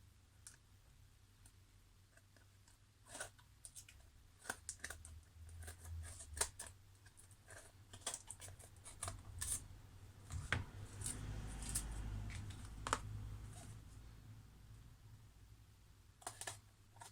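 Scissors trim the edges of an adhesive transfer in a series of small, quiet snips and clicks, irregular and close, with a soft rustle of material midway.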